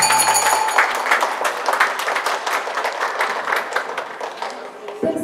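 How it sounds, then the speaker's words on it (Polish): Audience applause at an equestrian show jumping competition: a steady patter of many hands clapping at moderate distance, fading slightly toward the end. "wielkie brawa."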